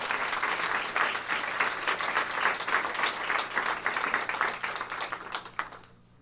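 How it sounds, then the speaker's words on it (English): An audience claps after a poetry reading at a Fresno State MFA faculty event at Arte Américas. The applause is dense and sustained, then fades out at the end, with no voices over it. "keep the applause going for my colleague and mentor, Tim Skeen."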